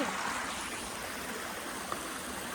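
A steady, gentle rush of a flowing stream on the trail up Raigad Fort runs throughout at low volume, continuous and even, with no voices.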